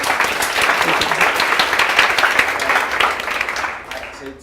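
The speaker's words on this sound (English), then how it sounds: "Guys, let's give Rita another round of applause." A round of applause from a members' audience at a talk on mindset, a dense burst of clapping with some cheering that holds strong and then tapers off toward the end.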